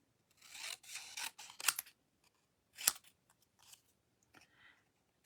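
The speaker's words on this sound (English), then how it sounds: "I am going to cut just straight a little rectangle." Scissors snipping a small straight rectangle from paper or cardstock at a craft table: several short close crisp cuts, two sharper snips standing out, with quiet gaps between and no talking.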